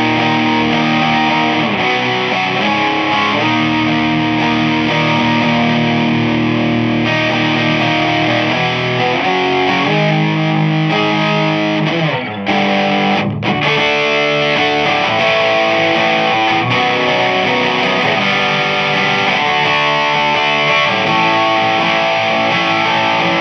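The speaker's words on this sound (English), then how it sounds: "this is trying to get more of an overdrive internal distortion from the pedal out of the less gainy side" An electric guitar runs through a JHS Moonshine overdrive pedal set on its lower-gain side, playing sustained crunchy, harmonically rich chords and riffs with brief pauses, loud and up close.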